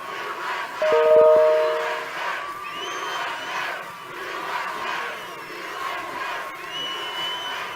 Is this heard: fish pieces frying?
no